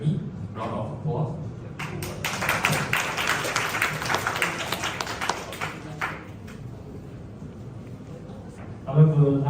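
An audience applauds in welcome as a speaker from Star Chess Academy is introduced, a dense, steady wash of many hands clapping for several seconds that thins out before a voice starts speaking.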